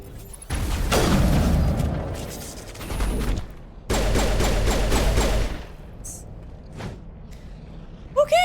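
Enemy gunfire in the game Mass Effect Legendary Edition bursts out in loud volleys of shots and booms, with a pause between the two main bursts and sharp pops at the end.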